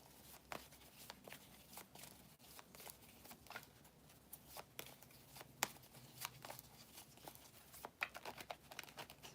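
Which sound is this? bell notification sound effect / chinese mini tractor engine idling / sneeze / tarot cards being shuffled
tarot cards being shuffled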